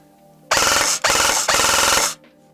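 An Arcturus PP19-01 Vityaz airsoft gun fires full auto in three loud, close, sustained bursts of rapid mechanical buzzing with brief gaps between them and no voices.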